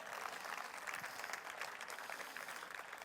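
A church congregation claps in a steady, fairly faint wash of applause that continues throughout, with no voices over it.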